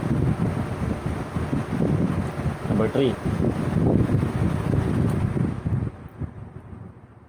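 A repaired stock-up electric fan runs at its third, higher speed, giving a steady loud rushing of air with someone talking over it throughout before it eases off near the end.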